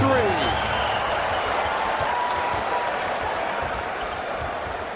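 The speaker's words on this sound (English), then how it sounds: "Hear the buzz in the crowd, can't you?" Steady arena crowd buzz at an NBA regular-season game between the Washington Wizards and the LA Lakers, a dense continuous murmur of spectators filling the space, with a commentator's voice running over it.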